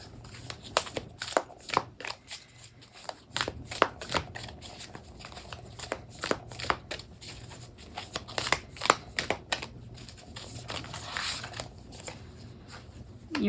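A deck of Moonology Oracle Cards is shuffled by hand, giving repeated quick riffling and flicking bursts in an irregular rhythm, close and crisp with light background hiss throughout.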